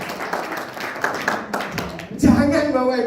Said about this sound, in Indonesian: tepuk tangan buat panjenengan